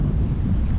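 A brief, strong gust of wind at Big Pine Lakes in the mountains buffets the microphone with a dense, low roar, loud and steady throughout.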